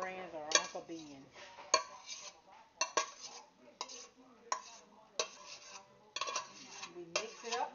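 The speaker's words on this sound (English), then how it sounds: "Now all we have to do is add our 2 cups of rice that we boiled." Boiled rice is tipped into a pan of Louisiana dirty rice, bringing a run of sharp utensil scrapes and clanks against the pan over a faint background sizzle, with a few louder knocks spaced through.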